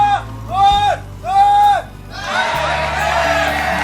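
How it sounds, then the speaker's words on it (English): A packed crowd at a StarCraft esports match in the GSL cheers and whoops, rising into a loud, sustained roar of noise after several short shouted calls from a commentator's voice. "I didn't expect the cheer to be that"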